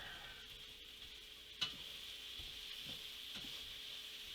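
Onions, garlic and jalapenos stirred in olive oil in a pan give a quiet, steady sizzle, with a few light scrapes and taps of a utensil and one sharper clack.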